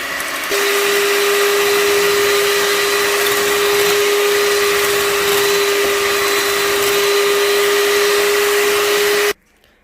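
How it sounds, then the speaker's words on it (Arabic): An electric mixer whirs steadily and loudly for about nine seconds while mixing batter for a layered lemon semolina cake, holding a constant high hum before cutting off abruptly; no voices. "ناخذ الخلاط، تقدروا ديروهم حتى في الخلاط الكهربائي اللي هو الميكسور"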